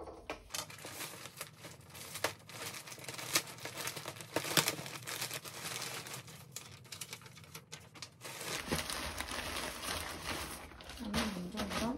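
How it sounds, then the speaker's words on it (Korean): Clothes being unboxed from a fall collection order, with packaging crinkling, rustling and tearing in steady bursts close to the mic, and a few sharp rips and taps along the way. "같이 한번 언박싱 해볼게요."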